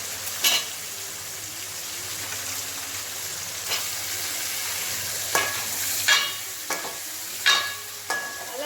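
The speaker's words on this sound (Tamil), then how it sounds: "இப்போ நம்ம கத்திரிக்காய் போட்டுக்கலாம்." Eggplant pieces go into hot oil with softened onion and tomato for a tamarind kuzhambu, giving a continuous close sizzle broken by several sharp scrapes and clatters of stirring.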